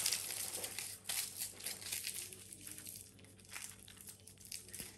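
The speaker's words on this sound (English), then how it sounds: "you just have to wrap them with a foil" Chicken lollipops wrapped in aluminium foil, close crinkling and crunching of the foil in irregular bursts, quiet and near, with no talk.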